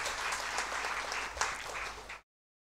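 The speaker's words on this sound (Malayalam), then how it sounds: "വലിയൊരു കൈയടി കൊടുത്ത് നമുക്ക് പ്രകടിപ്പിക്കാവുന്നതാണ്" An audience at a teachers' award ceremony breaks into loud, sustained applause, a dense even wash of clapping for about two seconds that then cuts off abruptly.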